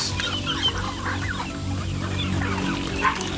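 A flock of young ducklings on a farm being fed starter feed, chirping and peeping continuously in a dense, close chorus, with a steady background hum underneath.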